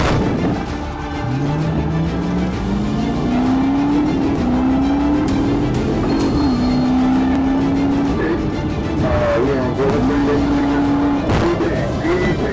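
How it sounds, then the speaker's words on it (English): An SUV speeds through dense traffic in a police chase, its engine note climbing steadily in a loud continuous roar, with tire noise and other passing cars around it. "The SUV tore through dense traffic, cutting across lanes and nearly colliding with oncoming cars."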